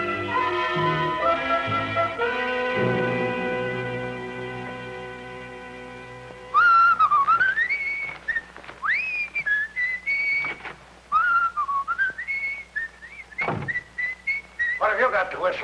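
A man whistles a bright, lilting tune indoors, a near and loud melody of rising and falling phrases that follows an earlier stretch of background music.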